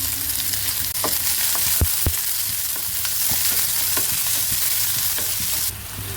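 Chopped onion and three green chillies fry in hot oil in a pan, giving a steady, loud sizzle throughout with a few sharp clinks of a stirring spoon. No one speaks.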